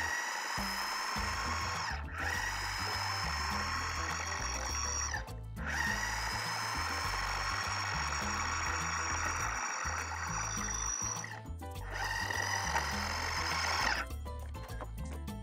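Food processor blending coconut dough with a drop of vanilla, a steady loud whirring motor in long runs with brief stops in between, heard alone with no talk.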